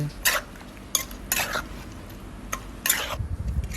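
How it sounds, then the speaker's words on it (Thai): Som tam with fresh shrimp, Vietnamese pork sausage and fish sauce stirred in a bowl, with several distinct clinks and scrapes of a utensil against the dish spaced through a few seconds. "คนส่วนผสมให้เข้ากัน"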